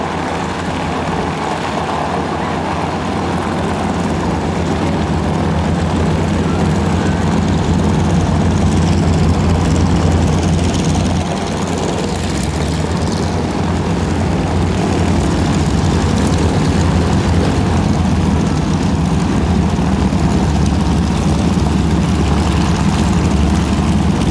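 GEICO Skytypers propeller airplanes fly over the 2008 AirPower Over Hampton Roads air show, making a loud, steady engine drone that holds for the whole stretch without a break.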